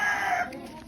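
A rooster crows once nearby, a drawn-out call that fades into quieter farmyard background.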